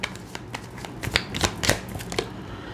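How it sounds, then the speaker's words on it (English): Tarot cards are shuffled close up in a quick run of soft riffling flicks and slaps, irregular and brief, with no speech. "let's pull on some cards for what's up"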